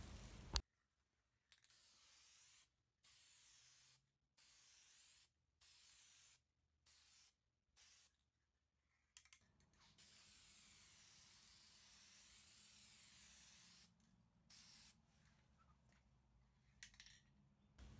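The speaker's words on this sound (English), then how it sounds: "I'm going to do one quick coat of gold spray paint." Short repeated bursts of gold aerosol spray paint hiss with brief pauses between them, followed by a longer continuous spray and a couple more quick puffs.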